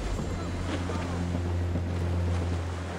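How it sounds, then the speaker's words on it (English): Wind and waves in a rough squall at sea in the Assassin's Creed Rogue video game, a loud, steady roar of gusting wind and churning water with a low hum underneath. "Quite a rough squall, Captain."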